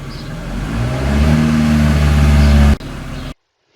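A Geo Tracker engine holds a loud, high-RPM rev with a steady droning tone, then drops off abruptly near the end, followed by silence.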